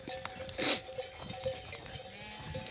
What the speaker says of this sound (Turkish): Şimdi de o koyunlar rahat durmuyor.